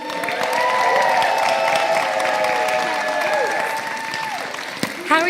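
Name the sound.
round of applause for drag storytellers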